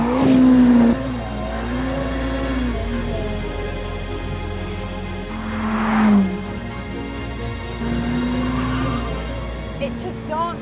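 A Ferrari F8 Tributo engine howls while the car is driven sideways, revving up and down with rising and falling pitch and brief tire squeal, heard from inside the car with someone talking over it.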